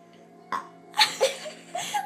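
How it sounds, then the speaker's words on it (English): A person burps out a spoken letter, with several short voiced belch-like bursts following one another at close range in a playful alphabet-burping game. "Because I'm burping it."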